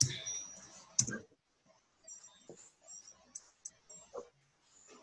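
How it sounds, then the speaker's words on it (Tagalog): Several pet dogs in a home make brief, scattered whimpers and yips, fairly faint and separated by pauses, with a sharp click near the start. "Ingay ng mga aso ko."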